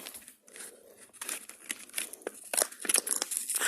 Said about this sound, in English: I'm gonna unbox it.